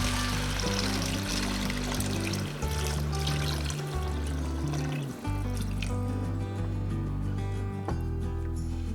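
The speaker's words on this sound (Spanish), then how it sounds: "A continuación cubrimos con agua" Water is poured over chicken in a cooking pot, making a continuous splashing, trickling flow that runs for several seconds with brief dips, close by and without talk.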